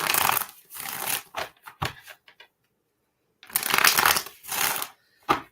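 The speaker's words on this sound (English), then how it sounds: "Let's shuffle it 6 times for Adele." Tarot cards are shuffled by hand close up, in repeated crisp riffling bursts separated by short pauses and one longer silence.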